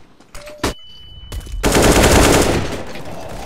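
AK rifle gunfire in the video game CS:GO, with a few sharp single shots and then a loud, rapid automatic burst that tapers off.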